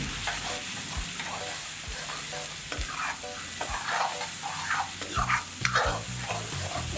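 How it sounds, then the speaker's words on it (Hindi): Ground coriander, garam masala and turmeric frying in a pan, with steady sizzling and repeated scraping, clinking stirs of a spoon against metal, close and fairly loud. "पिसी हुई धनिया और थोड़ा सा गरम मसाला, थोड़ी सी हल्दी। इसको हम भून लेंगे।"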